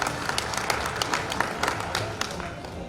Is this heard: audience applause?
yes